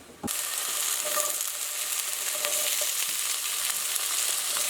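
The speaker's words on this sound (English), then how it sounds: "What we're going to try and do for the soup is fry these potatoes first" Purple potatoes fry in a pan, giving a steady, close sizzle and crackle that starts abruptly and holds without pause, with a few faint scraping clicks.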